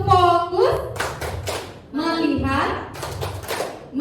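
A room of adults performs the tepuk fokus clapping routine, sharp rhythmic hand claps landing in quick groups between loud chanted words spoken in unison, close and clear.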